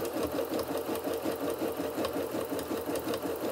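A sewing machine stitches a wide 6 mm zigzag at 1 mm stitch length, running with a steady, fast mechanical whir and rapid needle clatter, close and alone.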